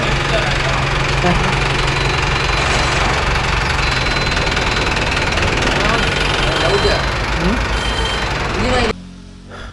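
A Mahindra Arjun Novo 605 DI tractor engine runs at a steady, loud diesel idle with a knocking rumble after a full oil service, with people talking over it until the sound cuts off abruptly near the end.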